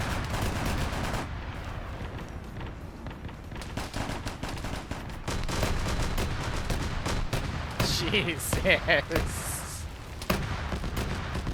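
Grenade explosions and gunfire in a Warhammer video game build into a dense, continuous barrage of rapid shots and booming blasts, with a man's brief exclamation heard over the battle.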